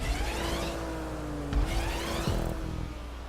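A car races in the driving game GTA Online during a Luxury GP track preview, its engine droning steadily with gear shifts and a couple of sharp thumps as it lands, loud and continuous.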